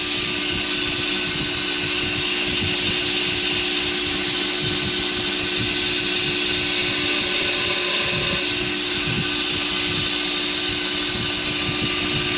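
Thin steel folding-knife blade ground near the plunge line, a steady loud whining grinder tone holding on throughout with a constant broadband hiss and faint rough scraping underneath, no voices.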